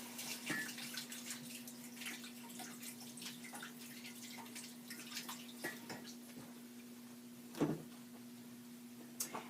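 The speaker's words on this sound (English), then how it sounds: "Let me just rinse my hands real quick." A kitchen tap runs steadily while hands are rinsed during artisan bread making, a soft, fairly quiet wash of water with a low hum beneath and a brief louder splash near the end.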